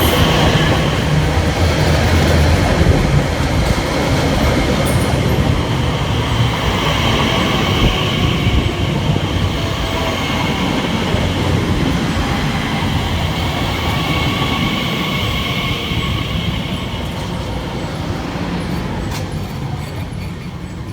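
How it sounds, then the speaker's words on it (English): Elizabeth Line train 345058, a Shenfield to Heathrow Terminal 5 service, pulls into a station on the Great Eastern Main Line with a loud, close rolling rumble and rail clatter that eases gradually as it slows. "arriving next into the station will be the 10:52 Elizabeth Line service from Shenfield through to Heathrow Terminal 5"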